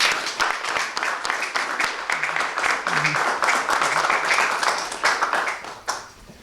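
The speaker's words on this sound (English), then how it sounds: "Please give yourselves a round of applause." Students at a middle school club ceremony applaud for six seconds, dense steady clapping with a few voices and cheers mixed in, trailing off near the end.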